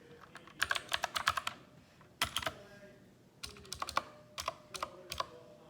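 Typing on a Redragon K552 mechanical keyboard gives quick runs of crisp key clicks in short bursts with brief pauses between them, close and fairly quiet.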